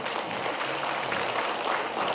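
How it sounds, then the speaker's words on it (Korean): A church congregation applauds its elders, a continuous wash of many hands clapping together at a steady, moderate loudness through the short stretch. "우리 장로님들께 한번 박수 쳐주시기 바랍니다."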